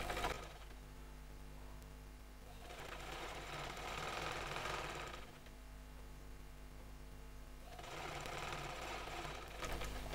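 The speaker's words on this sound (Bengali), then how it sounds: "তারপর আমি সেলাই করব" An electric sewing machine stitches a divider salwar in three quiet bursts of rapid whirring and clattering, separated by short pauses with only a faint background hum.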